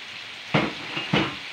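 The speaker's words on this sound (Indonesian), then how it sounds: "digoreng hingga kental, harum" Sambal chili paste fries in a pan with a steady sizzle, broken by two short, louder scraping bursts as it is stirred; no one speaks.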